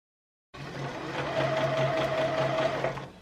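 A sewing machine runs steadily while stitching the side seams of a shirred blouse top, giving a continuous close, whirring mechanical hum for about two and a half seconds, alone after a moment of silence.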